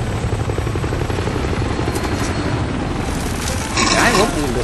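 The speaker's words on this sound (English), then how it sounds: "We've got a helicopter." A helicopter in the Call of Duty Warzone video game, its steady rotor thump and engine roar running loud and continuous throughout and swelling slightly near the end.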